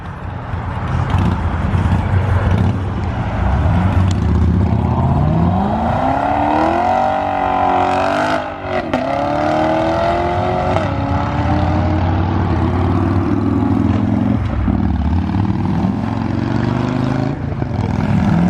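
Loud engines of a Corvette Z06 and muscle cars rev and rumble continuously as they leave a Halloween car meet, pitch rising and falling as vehicles pull away, with no talking over the steady roar.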